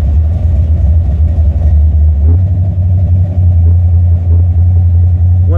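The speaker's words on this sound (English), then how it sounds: "Let's see what RPM I have to take the motor to before it actually moves the car in drive." A 1987 Stage-1 Buick Regal-T with a 455 V8 rumbles loud and near, idling in drive and then climbing to a higher, sustained rev around two seconds in as the throttle holds steady.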